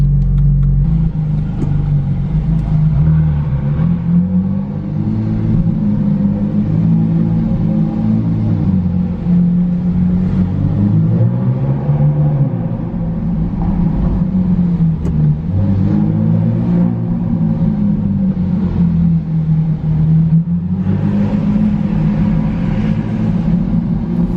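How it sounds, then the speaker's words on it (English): A Ferrari 458 engine revs and growls steadily for the whole stretch, a deep rumbling throb that rises and falls in waves, close and loud with no talking. "start it up. Listen to that growl."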